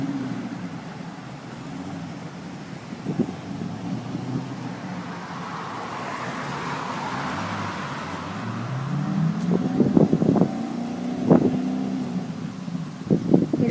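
A kit car idles roughly outdoors, then its engine climbs through several sharp revs toward the end, with wind buffeting the microphone.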